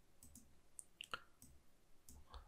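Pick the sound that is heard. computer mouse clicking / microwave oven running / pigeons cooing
computer mouse clicking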